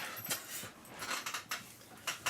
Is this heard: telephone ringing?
no